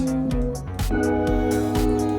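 Musical chords played in a steady pattern, with a sustained harmonic tone and regular percussive beats marking each change.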